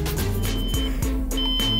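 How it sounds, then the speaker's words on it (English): A steady electronic alarm beeps in repeated tones during GTA 5 gameplay with a hurricane storm mod, loud and continuous over a constant background hum, with no talking. "Turn that alarm off!"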